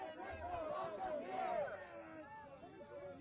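A crowd at an ICE protest murmurs in layered, overlapping chatter with a few raised voices, fairly faint and distant.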